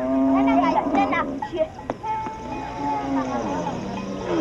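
Cattle moo in dry, arid grazing land at the edge of a Kenyan fly belt, with long drawn-out lows rising and falling, fairly close and loud.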